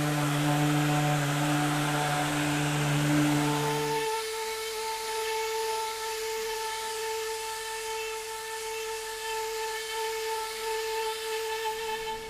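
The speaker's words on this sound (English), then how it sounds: "I'm going to start with the sander on the surface, hit the trigger" An electric drywall sander works a taped drywall joint with a steady, loud motor whine; its pitch drops about a third of the way in as the speed is turned down, then holds.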